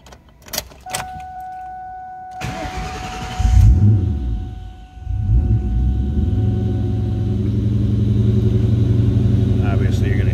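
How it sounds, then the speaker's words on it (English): A 2003 Ford Mustang Cobra convertible with a supercharger and Borla exhaust starts after some clicks, then settles into a loud, close, steady idle with a faint whine riding over the exhaust rumble. "Obviously, you're going to hear that supercharger whistle a little bit. You're also going to hear that Borla exhaust."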